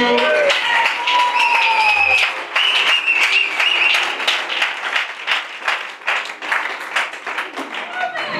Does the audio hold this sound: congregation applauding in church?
yes